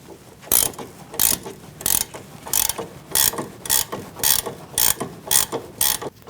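Ratchet removing the sway bar link nut on a 2016-2019 Chevrolet Cruze: about a dozen sharp, evenly spaced clicking strokes, close and loud.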